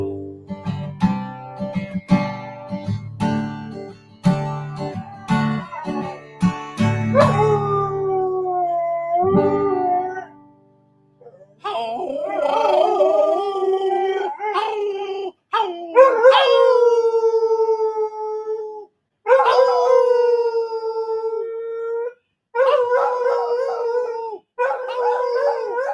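A person imitates a dog's howl, drawing out long wavering howls and yips at a loud, close level, separated by brief pauses and sounding alongside real canine-like barks and howls.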